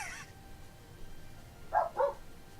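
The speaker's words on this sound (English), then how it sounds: "they're barking at something upstairs" Dogs bark somewhere upstairs in a house: two short, muffled barks in quick succession, distant and faint against a low background hum.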